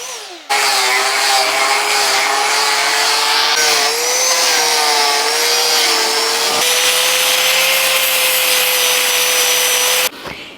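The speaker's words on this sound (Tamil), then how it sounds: "இப்போ நம்ம கிரைண்டிங் மிஷின் எடுத்துகிட்டு அந்த லைனுக்கு உள்ளே இருக்கக்கூடிய மரம் எல்லாத்தையும் நம்ம வந்துட்டு தேய்ச்சி எடுத்துடலாம்" A grinding machine sands down wood while shaping a bicycle propeller, a loud continuous high whine holding steady for about ten seconds, with a brief dip in pitch partway through, then stopping abruptly.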